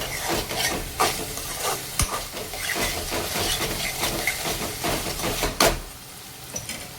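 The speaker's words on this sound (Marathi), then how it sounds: "सगळे सॉसेस आणि ब्लॅक पेपर ॲड केला तर छान यांना मिक्स करून घेऊयात." Veg hakka noodles tossed with sauces and black pepper in a hot pan: a steady sizzle with repeated scraping and clacking of a utensil against the pan, close and moderately loud.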